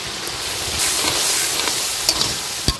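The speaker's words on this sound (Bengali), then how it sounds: "পরিমাণ মতো হলুদ, জিরা, টমেটো দিয়ে আর একটু কষিয়ে নেব।" Turmeric, cumin and tomato stir-fried in a pan during village-style fish and drumstick cooking: a loud, continuous hiss of frying with a couple of sharp clinks from the utensil near the end.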